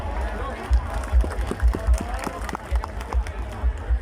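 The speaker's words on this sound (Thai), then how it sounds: "ขอเสียงปรบมือต้อนรับพิธีกรรับเชิญ" Audience at a Muay Thai boxing event in Phu Sing, Sisaket, clapping to welcome a guest host, irregular claps and thumps mixed with crowd murmur and a voice talking over it.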